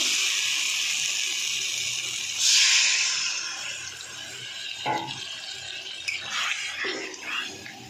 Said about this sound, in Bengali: বন্ধুরা আমার মশলা আলু সব কষা হয়ে গেছে, এবার আমি জল ঢেলে দেবো।